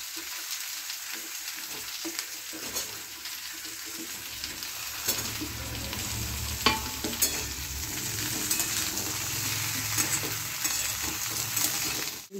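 Taro, eggplant and beans frying in oil in a pan for Odisha-style dalma, a steady close sizzle with scraping stirs throughout and no talk.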